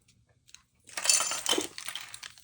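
A clear plastic glass piece from a model car kit clicks, rattles and rustles as it is handled close up, after a near-silent start.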